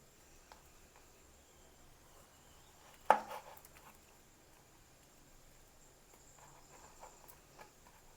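A knife slices banana for Kerala pazham pori fritters, landing one sharp knock on the cutting board amid a few faint taps in an otherwise quiet room.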